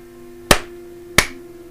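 Two sharp hand claps, about 0.7 seconds apart, sound alone and fairly close over a faint steady hum.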